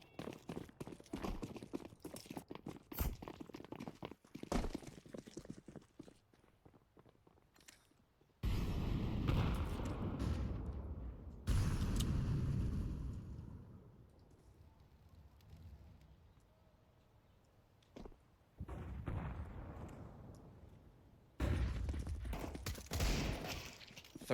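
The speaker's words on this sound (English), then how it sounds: "Nice Galil shots onto Crazy." Galil rifle gunfire during a competitive match in the video game Privateer Gaming vs BlueJay Talents, arriving as sharp bursts and scattered single shots that come and go across the clip, with quieter game ambience between volleys.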